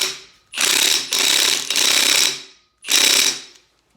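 Ratchet tightening small screws on a VG30 engine during a Nissan Z31 rebuild, heard as three loud, close bursts of fast metallic clicking separated by brief pauses.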